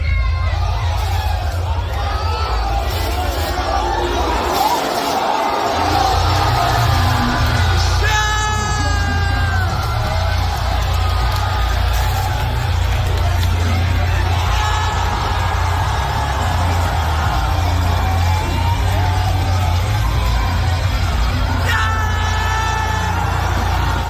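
A wrestling crowd roars and yells continuously at a live show, with loud shouting and whoops rising over a dense, steady hubbub throughout.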